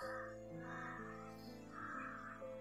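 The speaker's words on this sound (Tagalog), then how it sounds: "Malakas yung busis ng uwak tol." A crow caws repeatedly in a steady series of harsh calls, fairly close, over a constant background hum.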